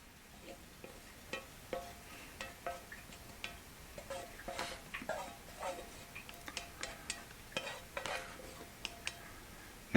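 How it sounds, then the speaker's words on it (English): A wooden spoon scrapes and taps against a fry pan while lifting browned almonds out over low heat, making a run of short, irregular clicks and scrapes close by, with no talking. "I'll use this wooden spoon for the transfer."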